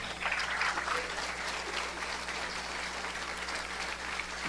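A congregation applauds during a Spanish-language sermon by a priest, a steady, even roar of many hands clapping at a distance over a low electrical hum, with no speech.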